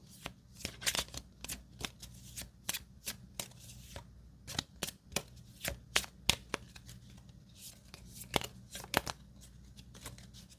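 Cards from the Mini Rogue card game being shuffled, a close, quiet run of crisp riffling bursts and flicks repeating steadily, with no talking.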